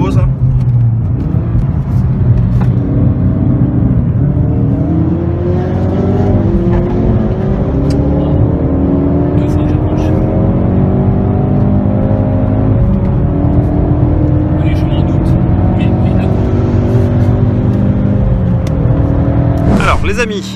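Engine roar of a Ford Fiesta ST on a circuit, following closely behind a Ferrari F40: a loud, steady drone with rising pitch sweeps as it accelerates through the gears.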